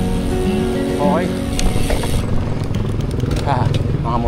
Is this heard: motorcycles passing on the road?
yes